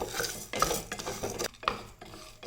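Chana dal and moong dal are stirred in a pan while frying, with a spoon scraping and clinking against the metal in irregular strokes between quiet gaps, close and soft.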